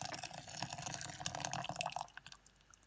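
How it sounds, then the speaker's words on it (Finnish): Water is poured over a bowl of mixed seeds for homemade seed crackers, a close, trickling stream that runs steadily and then thins into drips. "Ja vettä päälle."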